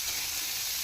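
Sliced onions frying in a pan until golden brown, giving a steady, bright sizzle with a close, even hiss and no voices.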